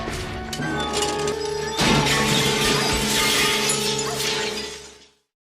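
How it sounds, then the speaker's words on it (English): Greenhouse glass shattering and falling in a sustained crash, a loud burst of breaking panes followed by several seconds of tinkling, scattering shards before it cuts off abruptly. "the entire glass shatters and falls on her"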